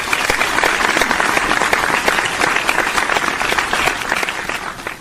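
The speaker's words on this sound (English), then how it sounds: "Everybody give him a round of applause." A crowd claps a steady round of applause for Isaiah's birthday during a live sports draft show, dense and sustained throughout without a break.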